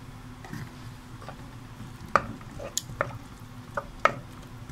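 Onions frying in oil in a pot for sayadeya rice, a low steady sizzle with a few sharp utensil clicks and taps against the pan, close and without talk.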